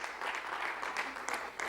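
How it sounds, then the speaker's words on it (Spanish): Church congregation giving applause during a service, soft, distant clapping that rises and falls in small surges for under two seconds, fairly faint and without speech over it. "Puedes dar un aplauso al Señor."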